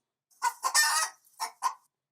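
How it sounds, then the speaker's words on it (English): A chicken clucks in quick excited bursts, close and clear, with a short pause before two more squawking clucks. "Or maybe you have an excited chicken."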